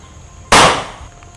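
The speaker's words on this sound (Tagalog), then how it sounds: "Binaril niya si Miss Jenny?" A single sharp gunshot from a drama scene, one loud close blast with a quick decaying tail, standing alone with no talk over it.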